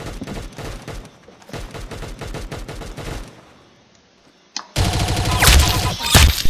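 Rapid automatic gunfire rattles in dense bursts in the Roblox game Arsenal, pausing briefly before a louder, sustained volley up close.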